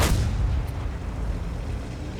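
Tank cannon fire in World of Tanks from a German Ru 251 tier 8 light tank: one heavy boom at the start, then a long rumbling tail, loud and full.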